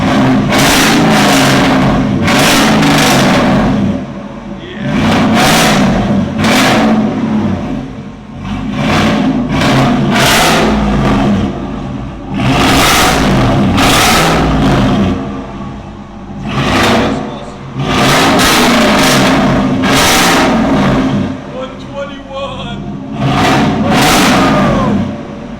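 A 2013 Chevy Silverado 6.0L V8 fitted with a NETAMI NTR racing muffler is revved hard over and over, loud and close, each surge of exhaust roar dropping back toward a rumbling idle between blips.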